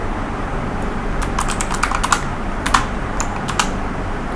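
Typing on a computer keyboard while writing CSS code, a run of light, irregular key clicks in small bursts over a steady background hiss, fairly close and alone.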